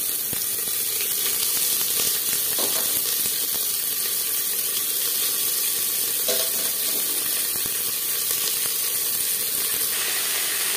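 Onions and spices frying in hot oil for a Bihari-style potato and mutton curry, a steady close crackling sizzle with broadband hiss running unbroken throughout, no voices.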